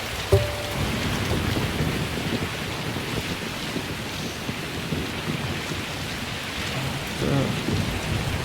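Steady heavy rain pours with deep rolling thunder in the racing game Lonely Mountains Downhill, a loud, dense wash that continues unbroken throughout.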